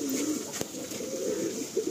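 Madrasi pigeons give a close, steady low cooing that runs through the whole short stretch, with one brief sharp tap partway and no talk.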